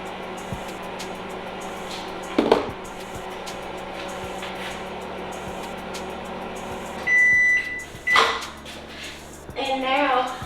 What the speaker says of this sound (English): We're gonna head on over to the microwave. Put that on a minute.